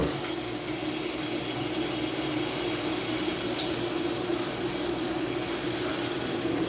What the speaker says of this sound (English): gonna do a bit of hot water on that right now.